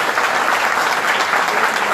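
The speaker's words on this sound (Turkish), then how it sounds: "kocaman bir alkış rica ediyoruz" Dense, sustained applause from a crowd at an AK Party event in Tekirdağ, honoring local officials; a loud, even wash of clapping with no pauses.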